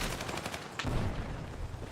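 Dense, continuous rattle of rapid gunfire with a heavier low boom partway through, combat from the video game Battlefield 6 playing loudly and steadily.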